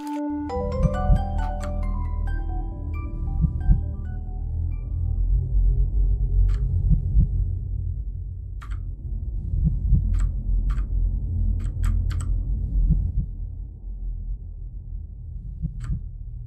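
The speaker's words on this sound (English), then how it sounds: "Why is there still a creepy heartbeat here?" A slow, creepy heartbeat in the video game Rakuen throbs steadily as a deep low pulse under an eerie ambient hum, with occasional faint high chimes and no talking.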